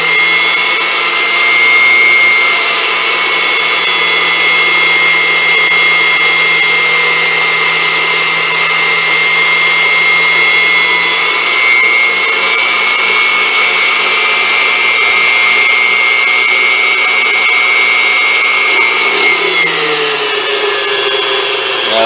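Unimat SL1000 lathe at 850 RPM taking a heavy cut in 954 aluminum bronze with a pointed tool: a loud, steady motor whine with high tonal cutting squeal, continuous and close, without talking.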